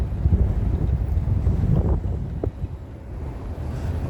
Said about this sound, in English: Close the window a little bit because this wind can suck up your hat and all kinds of things.